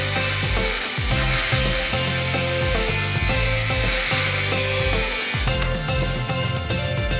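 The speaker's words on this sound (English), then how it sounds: "let's see how easily we can cut through an M12 threaded bar" A RYOBI 18V ONE+ cordless angle grinder with a cutting disc bites through M12 threaded bar, giving a loud, close, continuous high-pitched metal-cutting screech that wavers in pitch as the disc loads and frees.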